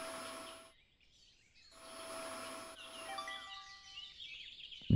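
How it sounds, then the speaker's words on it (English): A vacuum cleaner in a house-cleaning video game drones in two steady, fairly loud bursts with a humming tone, separated by short quiet gaps, then gives way to softer chirpy game sounds. "Oh my, it's a vacuum."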